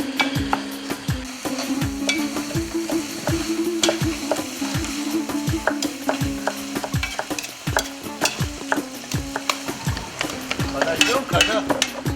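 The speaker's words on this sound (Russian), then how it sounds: "хорошо тушится это наши помидоры" Tomatoes stewing in a pan, with a steady loud sizzle and bubbling under repeated rhythmic scrapes and knocks of a utensil against the pan, and a brief voice near the start.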